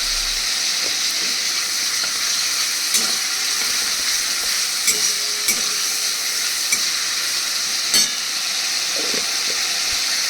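Spice paste fries in oil for chana dal, giving a continuous close sizzle and hiss with occasional scraping stirs and light clinks, no talk.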